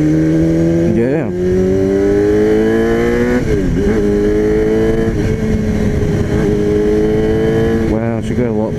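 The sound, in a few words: Honda CBR 250 motorcycle engine revving after carburettor cleaning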